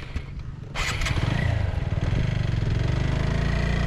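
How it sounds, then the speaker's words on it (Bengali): A motorcycle labouring through soft sand on Parki Beach, its engine droning loudly and steadily close by, with a brief rise in revs near the start. "বালুর মধ্যে মূলত বাইক রাইড করা খুবই টাফ।"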